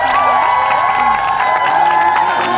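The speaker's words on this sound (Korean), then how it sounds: "큰 박수 말씀드립니다" A Korean TV studio audience cheering and clapping as a fisherman guest is welcomed, a loud, dense crowd roar with whoops that holds steady throughout.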